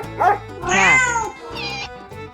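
A domestic cat meows several times in close succession, loud and near, with drawn-out, wavering calls and no talking.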